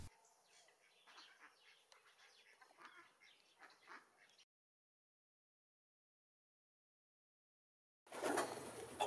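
Breeding pigeons in a loft softly cooing and murmuring, faint and close, then a sudden cut to silence before a louder rustling burst at the end.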